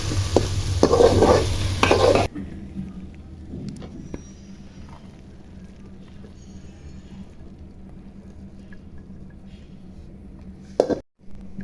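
Noodles stir-fried in a pan: a loud burst of scraping and sizzling for about two seconds, then a quieter steady sizzle with occasional clinks and a brief clatter near the end.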